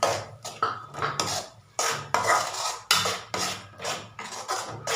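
Metal spoon scraping and knocking in a pan as ground tomato is stirred into chicken masala, a series of sharp clattering strokes in uneven rhythm, close and fairly loud, with no talk.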